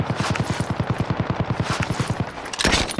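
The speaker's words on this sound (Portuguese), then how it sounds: "Dois caras atirando em mim." Call of Duty Warzone gunfire: a steady automatic burst of evenly spaced, punchy shots for about two seconds, followed by a brief louder crack and rumble, with no talk over it.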